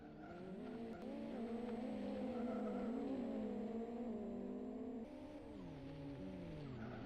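A rallycross race car in Live for Speed slides through a corner, its engine droning loudly and continuously with rising and falling pitch while tires squeal underneath, the engine note shifting partway through.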